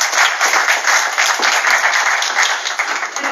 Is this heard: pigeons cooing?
no